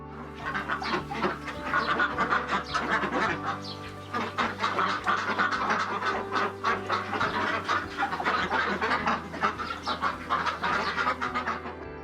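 A flock of Chinese Yiliang laying ducks on a farm near Chiang Mai keeps up a dense, continuous chorus of quacks and squawks, loud and close over a low steady hum.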